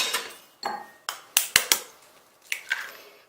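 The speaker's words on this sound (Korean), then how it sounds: "달걀 흰자를 분리를 조금 합니다." Eggs are cracked against a bowl and the whites separated, giving sharp clinking taps spaced through the clip, close and clear while preparing batter for fried fish.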